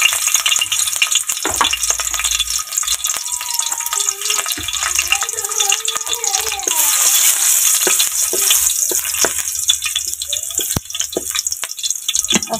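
Garlic fries in hot oil in a pan, a loud, steady crackling sizzle that continues throughout, with occasional stirring clatter and a few soft tones underneath.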